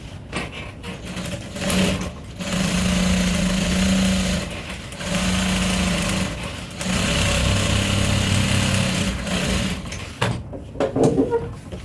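A sewing machine stitches African print tote bag fabric in several long, steady whirring bursts separated by short pauses.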